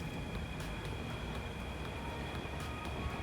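A train rolls along its track in the factory-building game Satisfactory, giving a faint, steady low rumble with light clatter that carries on evenly throughout, with no voices.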